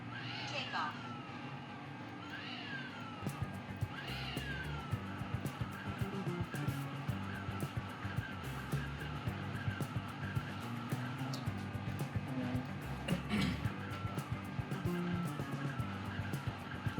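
A 2021 DJI Mavic 3 Classic drone, just repaired with a replacement ESC, idles its motors and then takes off. A few rising whining chirps of motors spinning up lead into a steady, fairly close electric hum.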